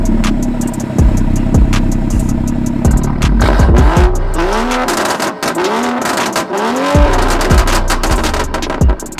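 A loud car engine at a charity car show, revving hard in repeated rising and falling bursts close by, with rumbling exhaust between the pulls and no talking.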